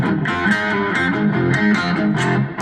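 Four-string cigar box guitar in FCFC tuning played through a Roland Cube 10GX amp with heavy distortion, a loud, dense, continuous metal riff with sustained buzzing chords and shifting notes.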